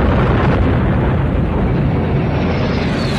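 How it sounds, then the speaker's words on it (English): Huge explosion from the 1986 film Aliens, a loud, sustained roaring blast with a deep rumbling body that holds steady throughout and trails off slightly at the end. "you can't end the alien movie without a huge explosion, right?"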